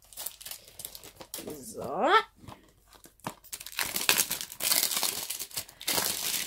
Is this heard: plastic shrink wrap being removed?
yes